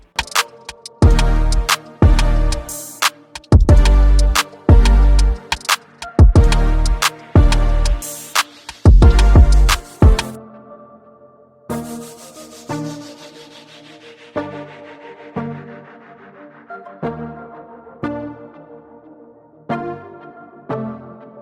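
A 2.5-inch cut through material for a frame around an aluminum pan: close, rhythmic cutting strokes with dull knocks repeat for about ten seconds, then quieter, evenly spaced taps continue.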